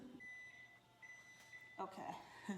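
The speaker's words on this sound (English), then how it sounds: "there goes the timer" A kitchen timer goes off while cheesy monkey bread dough is being made, giving steady electronic beep tones in two stretches, moderately loud, with a brief burst of nearby voice and kitchen noise toward the end.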